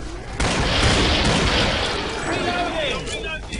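A video game explosion: a loud boom erupts, followed by a long rumbling roar that slowly fades, with a voice talking faintly beneath.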